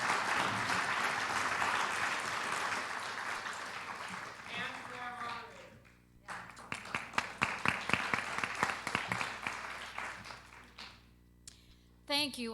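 An audience at a Houston panel event applauds the panelists, broad clapping filling the first half before thinning into scattered individual claps, with a speaker's voice over the tail.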